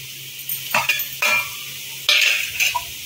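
Fried cashews and raisins are stirred into softened capsicum in a pan for Bengali-style fried rice, a few close scraping strokes with bursts of sizzling over a low steady hum.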